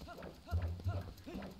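Horse hooves clopping in a steady riding rhythm in The Legend of Zelda: Twilight Princess, a few thudding beats over game sound, with someone talking over them.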